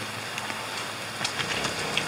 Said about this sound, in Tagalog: Hintayin ko pa lumakas yung ulan.